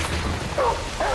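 Dog companion in the video game Remnant: From the Ashes gives a couple of short yipping barks, close and loud, over a continuous game background.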